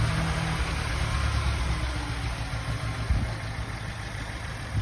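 A car engine runs steadily at low revs while being driven slowly around a parking lot, a low rumbling drone with slight swells and no talk.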